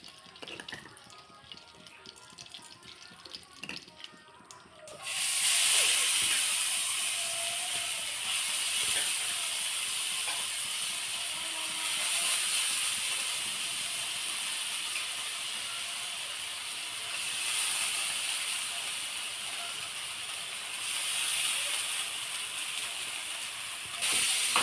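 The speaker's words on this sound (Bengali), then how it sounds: "এবার আমি অল্প ঘিতে সাবুটা ভেজে নেব" Sago frying in a little ghee in a wok: after a quiet start, a loud, even hiss of sizzling rises suddenly and holds steady nearby, swelling slightly at times.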